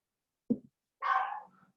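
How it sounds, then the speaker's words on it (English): A dog nearby gives a single short bark, then a longer whiny yelp, both fairly clear against silence. "sorry guys, this is my dog."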